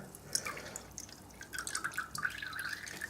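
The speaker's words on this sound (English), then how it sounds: "I'm just going to empty the remainder of that coolant into there as well to be disposed of" Leftover motorcycle coolant from a Kawasaki Z1000SX trickles and drips into a disposal container, a faint close patter building into a thin steady pour.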